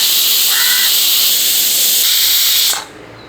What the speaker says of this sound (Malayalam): 8 വിസിൽ അടിച്ചിട്ടുണ്ട്